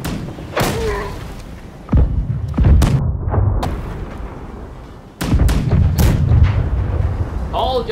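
Ship cannons firing in the naval game Blackwake, several heavy booming shots spaced a second or two apart, loud and close with rumbling tails, alongside scattered game noise.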